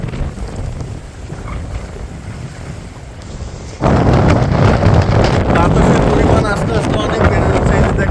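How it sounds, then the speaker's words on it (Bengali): Strong coastal wind from Cyclone Remal roars loud and steady, with fishing trawlers tied up along the Bangladesh shore; the gusts swell sharply about halfway through and stay heavy to the end. "আস্তে আস্তে বাতাসের পরিমাণ বাড়ছে এবং ঝিরঝিরি বৃষ্টি হচ্ছে আর প্রচুর বাতাস হচ্ছে"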